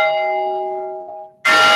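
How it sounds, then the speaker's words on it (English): An old plantation bell rung once by a pulled rope, its loud bright clang ringing out in a long, slowly fading sustained tone before a sudden louder burst of noise cuts in. "Can you ring that bell here?"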